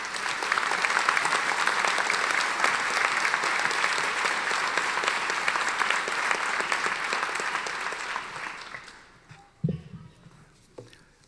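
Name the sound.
audience applause welcoming Judge Michael J. Malloy at law commencement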